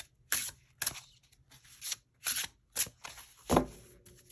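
An oracle card deck is shuffled by hand, giving a string of crisp riffling bursts about half a second apart, close up and fairly quiet, ending in a heavier tap.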